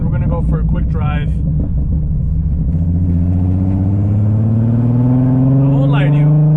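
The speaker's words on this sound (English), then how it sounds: "let's go for a quick drive and let's see what the car sounds like" An Audi RS3 with an aftermarket exhaust drives along, its engine holding a loud, deep, steady rumble that slowly climbs in pitch as it accelerates, heard from inside the car, with brief speech over it.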